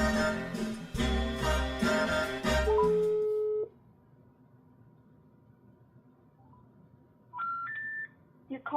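Rapid telephone dialing tones beep in quick succession over a line, then a long steady tone, a stretch of quiet hiss, and a final rising sequence of three tones typical of an unreachable-call notice.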